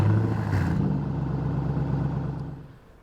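A tuned 4.6-litre V8 car with a cold air intake and straight pipes revs with a loud, deep, continuous engine roar that holds steady before easing off toward the end.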